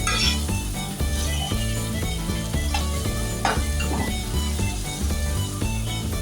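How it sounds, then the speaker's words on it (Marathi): Crushed garlic sautéing in a pan for jackfruit biryani, a dense, continuous close sizzle that stays loud throughout, with faint scraping from stirring and no speech. "छान परतवा आपला लसणाचा कच्चा वास जाईपर्यंत ते परतवत राहा"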